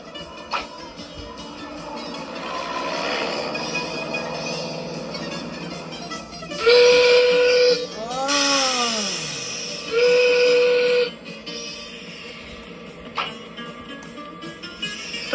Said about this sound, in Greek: Το τρένο.